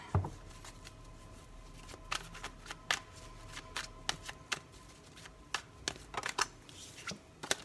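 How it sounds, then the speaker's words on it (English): Tarot cards shuffled by hand, a series of sharp papery riffles and snaps in irregular bursts, close and crisp over a quiet background. "I'm going to give this just another quick 2 shuffles, and then we will split the deck here."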